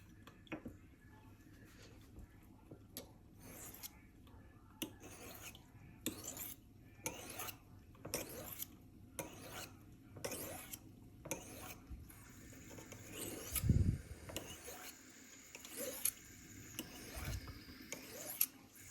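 A steady, rhythmic rasping of a knife blade drawn repeatedly across a river stone, stroke after stroke at close range, with a brief dull thump partway through.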